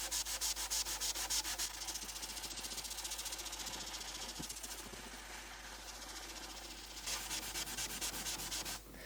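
Magic eraser scrubbing the cabinet of a Telefunken Operette 6 radio: steady, close rasping rub that continues for the full stretch, with brief dips in its back-and-forth rhythm and a faint low hum beneath.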